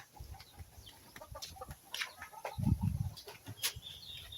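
Backyard chickens cluck and squawk in short bursts amid outdoor rustling, with a louder, nearer flurry of clucking in the middle, and no one speaking.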